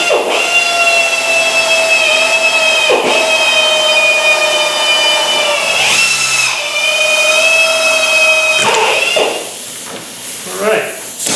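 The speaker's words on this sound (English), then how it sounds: "I'm using a smaller drill, and I'll go up to a bigger size when I'm done doing all the pilot holes." A power drill with a small bit whines loudly and steadily while boring pilot holes in a Beatnik Bandit model build, with brief pauses between holes and a person talking near the end.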